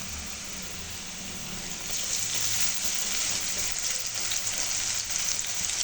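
Ginger garlic paste dropped into reddened onions frying in a little oil, a steady close hiss of sizzling that grows louder partway through and keeps crackling without pause.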